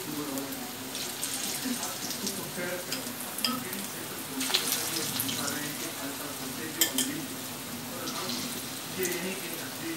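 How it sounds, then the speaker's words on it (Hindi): Marinated egg pakoras fry in hot oil until golden brown. A continuous crackling sizzle is heard, with scattered sharper pops and spatters over a watery hiss. "इसे पूरा अच्छी तरह हमें फ्राई करना है जब तक कि वो ब्राउन कलर का ना हो जाए।"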